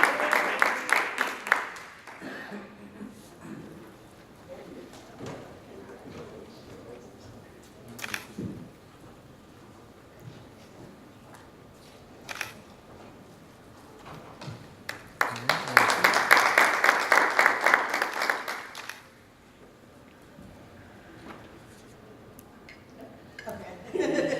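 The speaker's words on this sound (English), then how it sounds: "please give her a round of applause" An audience at a National Urban League advocacy session gives two short rounds of applause as names are read out, one at the start and a louder burst later, with a speaker's voice talking in between.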